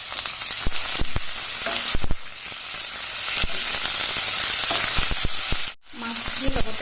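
Chicken goes into a pan of frying ginger-garlic paste, raising a strong crackling sizzle broken by sharp clacks of stirring utensils. Near the end there is a brief sudden drop before the frying resumes.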